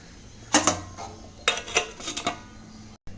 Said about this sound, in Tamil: ஸோ இதை அப்படியே மூடி வச்சிடலாம்.